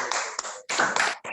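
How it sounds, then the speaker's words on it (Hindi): Children clap at a bhajan performance in a short, quick burst of claps that breaks into two or three uneven bursts, fairly close and alone. "सभी बच्चे जोरदार तालियां बजाएं"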